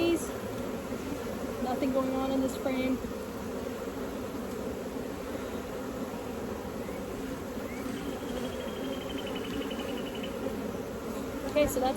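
Honeybees drone in a steady buzzing hum around an open hive during an inspection, continuous and close throughout, with a few brief spoken words over it.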